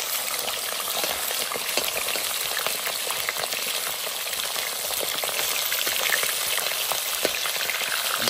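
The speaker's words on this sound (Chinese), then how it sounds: "煎鱼啊，就是油要的多。" Fish fries in a generous amount of hot oil, a loud dense continuous crackle and sizzle with busy popping throughout, close up and with no voices.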